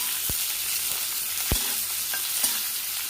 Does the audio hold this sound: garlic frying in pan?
yes